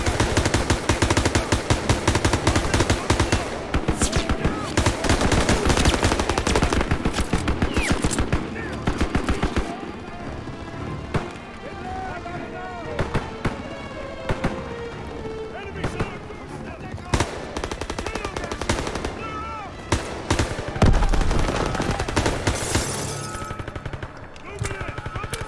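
Heavy automatic gunfire rattles in dense bursts in the Call of Duty: WWII campaign, loud and near, with scattered single shots, explosions and someone talking between volleys.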